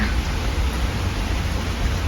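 Rain pours outside under a heavy overcast sky, an even broadband wash of noise that stays constant throughout with no talking.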